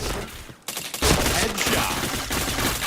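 A shooter video game fires rapid gunfire bursts, loud and dense after a brief quiet moment.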